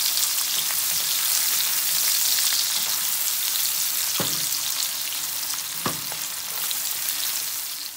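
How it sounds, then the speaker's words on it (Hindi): Half an onion fries with asafoetida in hot oil, giving a bright, continuous sizzle close by, broken by two quick utensil knocks, with no voices. "अच्छे से हमने प्याज को भून लेना है।"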